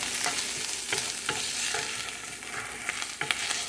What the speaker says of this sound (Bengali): চিংড়ি মাছটা বেশি ভাজবো না